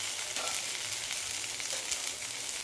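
Eggplant pieces frying in a kadai for a Marathi vegetable curry, a soft, even sizzle holding steady throughout with a faint stir or two, close by and no speech.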